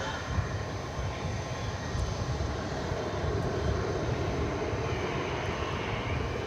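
An Envoy airliner departs DFW Airport with a broad, continuous jet engine roar, loud and steady throughout with no break, heard without any talk.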